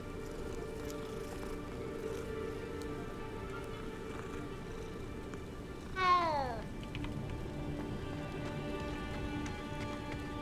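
A single short cat meow rises out of steady rain and ambient background in the video game Hogwarts Legacy, fairly faint and brief midway through.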